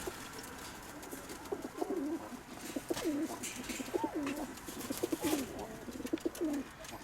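Pigeons coo in soft, repeated rolling phrases throughout, close by, with steady outdoor background noise and no talking.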